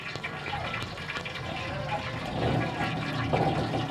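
A glass of water gushes into a gram flour (besan) mixture for kadhi, a steady loud splashing fill lasting a few seconds and swelling toward the end.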